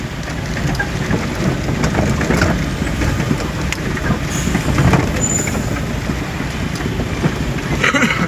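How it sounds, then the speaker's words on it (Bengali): Inside a car descending a rough, damaged mountain road in rain and fog, a loud, constant low rumble and rattle fills the cabin, steady throughout with small bumps and jolts. "দেখেন রাস্তা খারাপ, পাহাড়ে ঢালে নামছে গাড়ি।"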